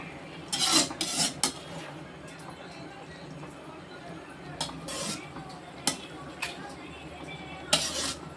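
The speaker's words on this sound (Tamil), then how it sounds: "இது எல்லாமே நல்லா இந்த காய் எல்லாம் படுற மாதிரி நம்ம அதை கிண்டி விட்டுக்கிறணும்" Vegetables stirred through vermicelli in a pan for semiya kichadi, with several sharp utensil scrapes and clinks against the pan over a low sizzle, as a voice talks throughout.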